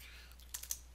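Typing on a computer keyboard while setting up a Structured Text PLC function, heard as a few light, scattered key clicks in a quiet room, ending on one sharper keystroke.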